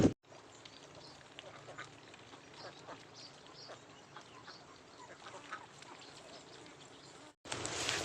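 A flock of ducks sits in a pen with a straw-covered floor in a village. Many overlapping quacks and chatter make a steady noisy din at moderate distance, ending in a sudden cut.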